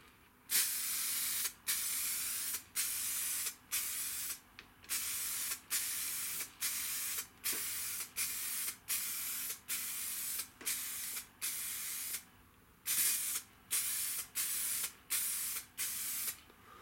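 Aerosol spray of Full Dip wet coat hisses in a long series of steady bursts, each about a second long, separated by brief pauses, close and loud with no talking.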